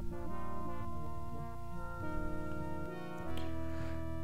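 Layered low mechanical drone of a machine in the video game Indiana Jones and the Fate of Atlantis, with steady harmonic tones and rattling grinding beneath, shifting partway through, continuous and fairly quiet.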